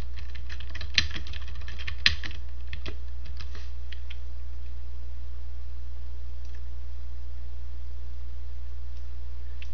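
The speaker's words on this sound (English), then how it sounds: "Type in the document's title." Computer keyboard being typed on in bursts of close, crisp key clicks for the first few seconds, then fading to near-quiet background hum.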